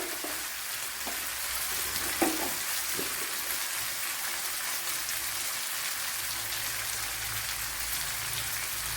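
Okra frying for a curry, a steady broadband sizzle filling the pan throughout, with a few soft stirring clicks near the start and no voices.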